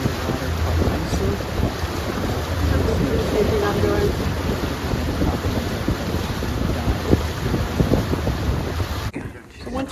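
A boat motors along a river channel in the Okavango Delta, its broadband engine and water rush steady throughout with wind buffeting the microphone, cutting out abruptly near the end.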